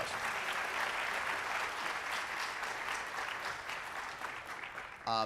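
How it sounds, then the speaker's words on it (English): An audience at a high-school academic awards evening gives a round of applause, a sustained clatter of many hands that thins slightly near the end before a voice cuts in. "Let's give her a big round of applause"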